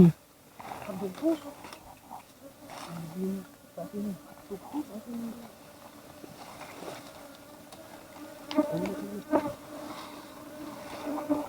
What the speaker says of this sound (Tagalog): So, pinapaikutan na ako ng mga bubuyog.